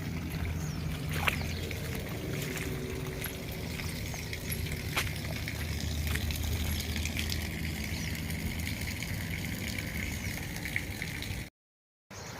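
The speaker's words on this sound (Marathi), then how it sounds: "पाणी सगळं वाहते बघ" Floodwater after heavy rain streams along a potholed road in a steady, continuous rushing wash, with occasional faint splashes and no voices, before an abrupt brief dropout near the end.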